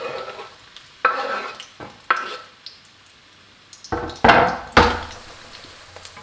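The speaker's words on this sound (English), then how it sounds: "Add the cut onions into the oil and start frying." Onions frying in hot oil in a pan, with bursts of sizzling and scraping stirring strokes spaced irregularly, the loudest sputters near the end, no one speaking.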